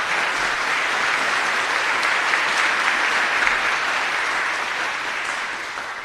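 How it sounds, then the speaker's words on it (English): Sustained applause from an audience at a school Veterans Day ceremony in Palmetto Bay, Florida, dense and even for several seconds before easing slightly at the close. "Let's give him another round of applause."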